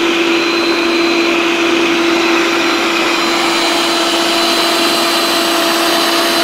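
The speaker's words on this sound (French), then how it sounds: "là il passe l'aspirateur et en même temps le mode serpillière" A Yeedi Vac 2 Pro robot vacuum cleaner vacuums and mops a floor at once, giving off a loud, steady whirring hum with a constant tone and no pauses, close up and uninterrupted.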